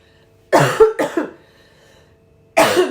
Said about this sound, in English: And excuse the cough.